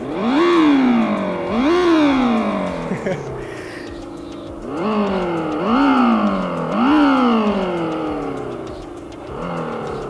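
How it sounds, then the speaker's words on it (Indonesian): An electric United E Motor T18 maxi scooter plays a simulated combustion-engine hum that rises and falls in repeated revving sweeps as the throttle is twisted, several surges in a row with brief pauses between them. "motornya ada efek suara seperti motor mesin bakar pada umumnya"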